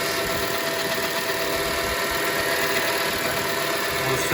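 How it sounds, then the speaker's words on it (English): A car engine with faulty alternator bearings runs steadily at idle, a continuous close mechanical hum with a constant high-pitched whine and faint knocking, no voices. "A couple faulty alternator bearings."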